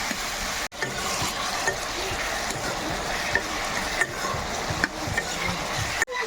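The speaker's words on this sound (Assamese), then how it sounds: "এয়া ফ্ৰাই কৰি আছোঁ" Fish and potatoes frying in a pan with salt and turmeric, giving a dense, continuous sizzle close up, with a few soft stirring clicks and brief dropouts and no talking.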